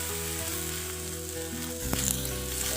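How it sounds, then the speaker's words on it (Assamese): Roughly chopped onions sizzle and fry in a hot pan after tomatoes have gone in, a steady close crackle that grows slightly louder near the end, with no talking. "এতিয়া মই ডাঙৰকৈ কাটি থোৱা পিয়াজখিনি অকণমান ভাজিম"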